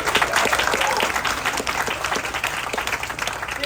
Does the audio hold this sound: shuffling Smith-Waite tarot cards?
no